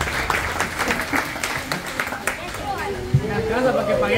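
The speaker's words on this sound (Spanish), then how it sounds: "Un aplauso para ella," Audience applause for a young girl at a singing competition final, a steady wash of clapping and crowd noise with a voice speaking over it toward the end.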